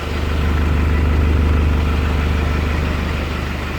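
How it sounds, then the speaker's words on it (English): A Nissan D22 Navara engine runs at a steady idle with a snorkel fitted, a loud, continuous low rumble close by that stays even throughout with no revving. "We are up and running, and I can feel it's drawing a pretty substantial amount of air in at the top here."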